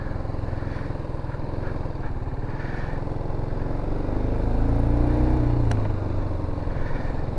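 Motorcycle carrying a rider and passenger cruising steadily in a straight line, a continuous near engine drone that swells slightly as it accelerates, with faint wind and road rumble and no talking.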